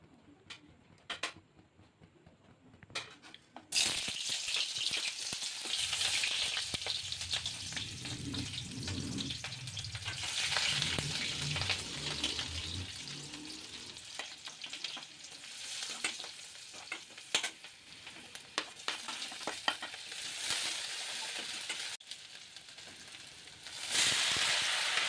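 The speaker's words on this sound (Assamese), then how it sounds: "তেলত ফ্ৰাই কৰিম" Kachu flower and dried fish frying in hot oil in a home kitchen, a steady bright sizzle running for most of the stretch with occasional ticks and stirring clatter.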